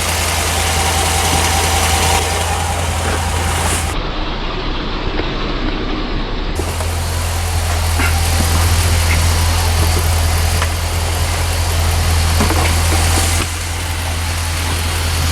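A Jeep Grand Cherokee engine runs steadily at idle close by, a loud continuous low rumble with no talk over it.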